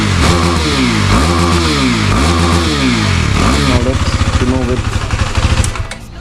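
A 2017 KTM Duke 390 on its stock exhaust revs loudly and close, its engine rising and falling in several repeated throttle blips before it drops toward a rough, pulsing idle.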